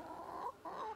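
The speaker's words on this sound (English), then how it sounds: "there's a couple white chickens over there" Two short bursts of white chickens clucking, close by and fairly loud, separated by a brief pause.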